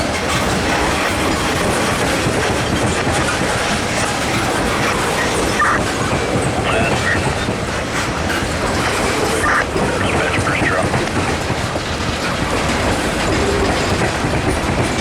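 Wheeling and Lake Erie tank train, apparently unloaded, hauled by SD40T-2 locomotives and passing near a diamond crossing at Brewster, with loud continuous clickety-clack of wheels over the rails and light squealing, close and sustained.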